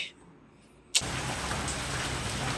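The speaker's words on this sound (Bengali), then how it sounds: "বৃষ্টি দেখো, বিশাল বৃষ্টি হচ্ছে।" Heavy rain bursts in abruptly about a second in after near-quiet, then pours steadily as a loud, dense broadband roar with no voices.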